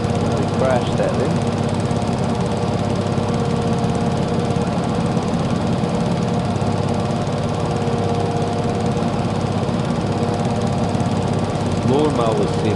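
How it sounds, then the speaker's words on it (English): Lawn mower engine in the video game Farming Simulator 22, a steady continuous drone with a rough low rumble held throughout, loud and unbroken. "Lawnmower sim."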